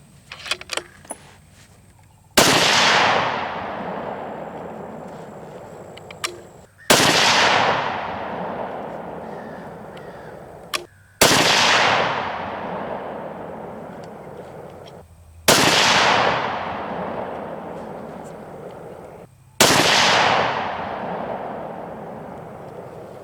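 Five loud rifle shots from a .260 Remington ring out a few seconds apart. Each sharp crack is followed by a long, fading echo, and there are quiet pauses between the shots.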